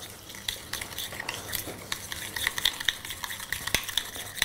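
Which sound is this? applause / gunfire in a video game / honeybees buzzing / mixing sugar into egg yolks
mixing sugar into egg yolks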